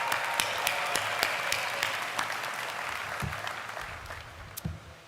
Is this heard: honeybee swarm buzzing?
no